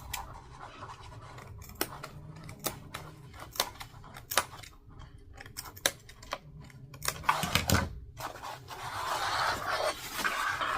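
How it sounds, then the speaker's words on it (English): Scissors snip through fabric in a series of crisp cuts, close and fairly quiet, with rustling and shuffling of material between cuts. "Scissors through here"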